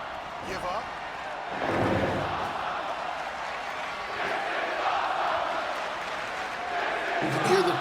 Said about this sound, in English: You can hear the crowd is